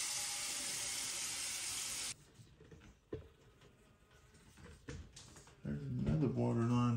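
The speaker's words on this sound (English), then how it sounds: "Turn that water on over there real quick." A tap runs water steadily for about two seconds, a close, bright hiss that cuts off abruptly, followed by quieter clatter and a voice speaking at the end.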